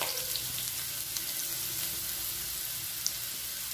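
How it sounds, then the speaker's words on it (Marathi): Grated bottle gourd roasting in hot ghee in a pan makes a steady, close hiss of frying. Faint crackles and a few small spatters break through the sizzle, with no voices. "छान तुपामध्ये आपल्याला दोन तीन मिनिट हा किस भाजून घ्यायचा आहे।"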